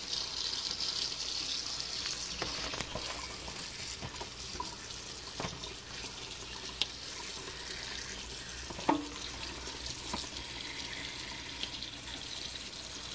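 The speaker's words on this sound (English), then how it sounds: "Give it a really good rinsing too. You want to try to get all that sand and dirt out of there." Tap water runs steadily into a sink as freshly gathered wild mushrooms are rinsed of sand and dirt, a constant close hiss of flowing water with occasional light knocks and splashes, no talking.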